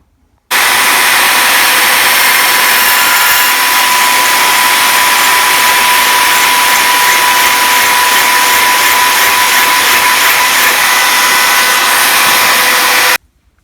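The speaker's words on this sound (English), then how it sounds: "I'll put it in the drill. While it's spinning, I'll use the hacksaw on it" A hacksaw works a brass key blank spinning in a drill, a continuous loud whirring hiss with a steady tone that starts abruptly and stops just as suddenly after about twelve seconds.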